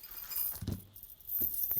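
A metal chain clinks and jangles lightly as it is unpacked and handled, two soft bursts of rattling separated by a brief quiet, close and faint.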